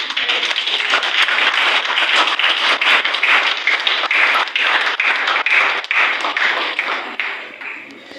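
A live audience at a prostate health awareness event in Lagos Island applauds their doctor with sustained, dense crowd clapping that holds steady for several seconds before tapering off near the end.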